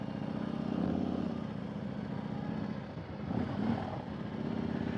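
A 2021 Harley-Davidson Road Glide in sport mode pulls away with a steady low engine drone and a slight swell of throttle partway through, heard close and without voices.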